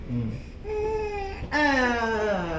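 A baby cries in sustained, rising wails with a brief catch between bursts, close and fairly loud, no other voices.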